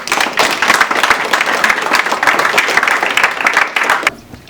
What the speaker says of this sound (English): Could we all just give him a big round of applause, please?